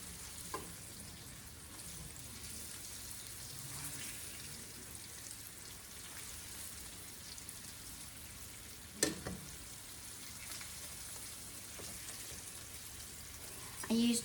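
Chicken strips fry in grease in a pan with a steady, soft sizzling hiss throughout, quiet and close, broken by a brief clatter partway through.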